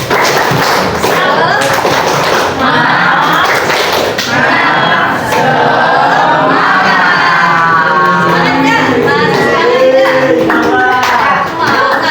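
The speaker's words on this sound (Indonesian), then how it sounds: "Tepuk semangat." A classroom of children performs a rhythmic spirit clap, loud group clapping and thumps mixed with voices and shouting in a lively room.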